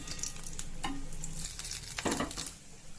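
Oil sizzles steadily in a pan while gobi manchurian is made, a close hiss with a couple of brief scraping stirs on top.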